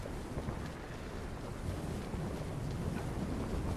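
Wind flapping curtains, making a steady broadband rush that resembles the sea, constant and fairly soft throughout with no voices.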